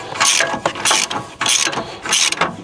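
A hand ratchet tightens a rear suspension arm bolt on a 2016-on Volvo XC90 T8 with air suspension, giving four quick bursts of sharp clicking close up, each separated by a short pause.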